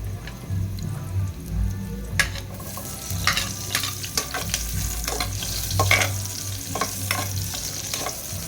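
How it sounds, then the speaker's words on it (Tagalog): Garlic and ginger fry in hot oil for sinigang made with canned mackerel, a steady close sizzle with crackling pops and occasional stirring scrapes, continuous and fairly loud, with no talking. "At dinig na dinig ninyo naman ang pagkilansing ng ating mainit na bawang at luya."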